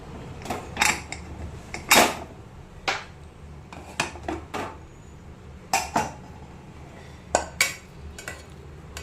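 A pressure cooker being opened in a home kitchen while a Konkani lunch of banana stem curry is cooked, with sharp, close metallic clanks and clinks of pots, lid and utensils coming in scattered bursts.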